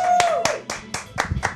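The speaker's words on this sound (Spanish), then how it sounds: "Aplausos para Héctor." Studio audience applause for a guest on a Chilean TV interview show, heard as a short burst of several distinct sharp claps in a brief rhythmic run, loud and close, with a voice speaking over the start.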